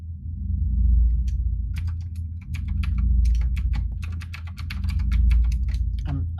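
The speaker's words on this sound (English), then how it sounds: "I'm still typing." Rapid typing on a computer keyboard, with irregular clusters of crisp key clicks coming up close over a steady low hum that swells and fades.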